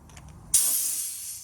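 An onboard air compressor reaches maximum pressure and releases a sudden loud hiss of escaping air that holds steady and slowly fades, after a brief low mechanical hum.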